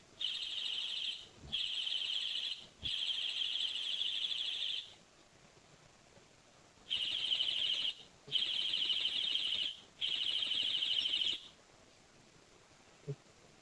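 A brake-activated horn device fitted to a Honda CD 70 motorcycle, sounding a shrill siren-like tone in several long bursts separated by short and longer pauses, loud and close.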